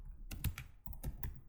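Quick bursts of keystrokes on a computer keyboard, two short clusters of close, crisp clicks separated by a brief pause, with no talking.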